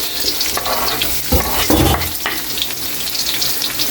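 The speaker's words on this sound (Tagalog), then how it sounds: "dahil mainit na yung mantika natin ilagay na natin yung sibuyas" Sliced onion dropped into hot oil with browning garlic for pork adobo, a loud close sizzle that flares as the onions hit, with scraping stirs over a constant fry and no talking.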